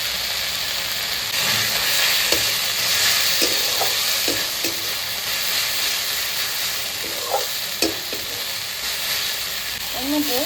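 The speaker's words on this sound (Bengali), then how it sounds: "রসুন ও আদা বাটাটা আমি দিয়ে দিচ্ছি।" Garlic and ginger paste fries in hot oil in a pan while mocha (banana flower) is being cooked, a steady sizzle with occasional stirring scrapes and small pops, close and fairly loud with no talking.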